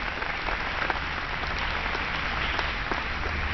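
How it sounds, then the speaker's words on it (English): A large audience at a college graduation commencement claps steadily, a thick even patter of applause throughout with no voices rising above it. "give all of them another round of applause"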